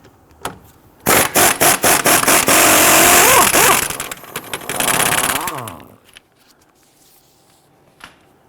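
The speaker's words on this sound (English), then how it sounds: "We're going to use a 17mm swivel socket with our impact gun." A pneumatic impact gun with a 17mm swivel socket hammers on a stuck shock absorber bolt of a 2008-2013 Infiniti G37, giving a few short bursts, then a loud sustained rattling run that fades out, close up.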